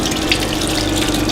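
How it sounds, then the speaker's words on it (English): Water runs steadily from a tap in a fishing setup, a loud, constant gushing splash that fills the whole moment without any talking. "There's some water running"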